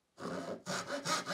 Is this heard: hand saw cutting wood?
yes